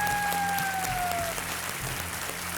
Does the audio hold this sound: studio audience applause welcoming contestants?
yes